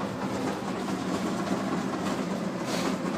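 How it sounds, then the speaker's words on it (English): A restaurant kitchen exhaust system runs below an apartment, giving a steady, loud broadband whoosh and low rumble that holds evenly throughout, with no voices. "the exhaust system of the restaurant that I live above"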